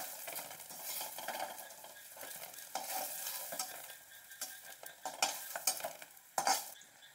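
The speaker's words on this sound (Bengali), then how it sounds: "আর একটু রয়েছে, এগুলোও আমি এভাবে ভেজে নেব।" Taro flower and red lentil fritters fry in hot oil, giving a steady crackling sizzle with bursts of spattering and a few sharp scrapes of a utensil stirring and lifting them from the pan.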